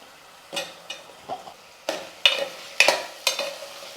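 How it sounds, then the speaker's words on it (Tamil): Drumsticks stirred into sautéed onions and tomatoes in a pan for sambar, with several separate scraping strokes and soft sizzling; close and fairly quiet, with no talking. "முருங்கைக்காய் சேர்த்து நல்லா கலந்து விட்டுட்டு,"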